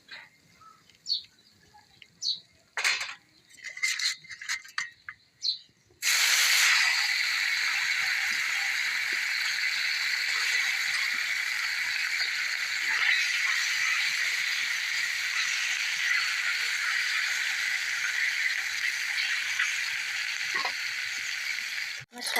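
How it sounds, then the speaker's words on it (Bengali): Fish pieces hit hot oil, and a loud, steady sizzle runs for a long stretch after a few quieter seconds of light clatter and faint sounds, ending abruptly. "বাকি মাছগুলোও ভেজে নেব।"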